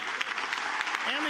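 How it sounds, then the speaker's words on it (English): Sustained applause from a crowd at a political speech on tax cuts, a dense steady roar of clapping throughout. "And the applause went on."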